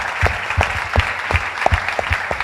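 Audience applause at a Paris conference on Israel, heard as a steady wash of clapping with sharp, regular thuds punctuating it, fairly close and sustained throughout, no voices over it.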